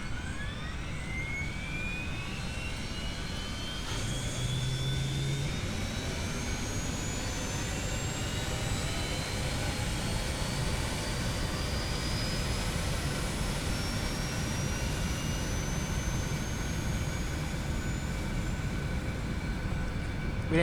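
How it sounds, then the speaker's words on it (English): In X-Plane 11, the right engine of a simulated aircraft starts up at the airfield. It makes a steady, loud roar throughout, with a high whine that rises gradually in pitch as it spools up. "Let's go ahead and start the right engine."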